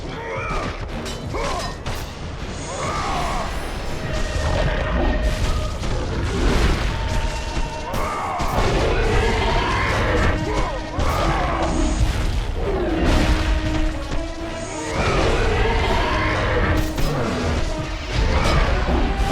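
Repeated heavy booms and crashing impacts from bomb explosions and combat in the video game God of War 2, loud and dense throughout with layered music and effects and no talking.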